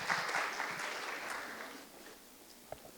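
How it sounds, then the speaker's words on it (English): Audience applause for a conference panel at BlockCon Pakistan, a dense burst of clapping that fades steadily over about two seconds, leaving faint room noise. "A big round of applause for all of them."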